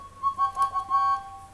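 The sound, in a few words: two-part toy train whistle being played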